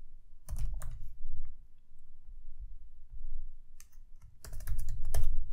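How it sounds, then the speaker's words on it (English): Fingers type on a computer keyboard while entering an email subject in Gmail. Quick bursts of close, crisp key clicks come in short clusters separated by quiet gaps. "Type in test 2 in the subject."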